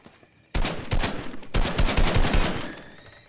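Loud, close gunfire from the video game Fortnite bursts in after a brief quiet start: a rapid automatic volley, a short pause, then a longer stream of shots that tails off.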